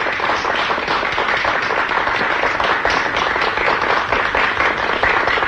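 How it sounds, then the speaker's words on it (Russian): Dense, steady applause from an audience greeting an Italian opera singer, many hands clapping continuously at an even loudness with no talk over it. "благодарность за ваши аплодисменты"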